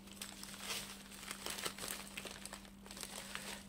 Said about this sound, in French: J'aurais réussi à ouvrir le paquet.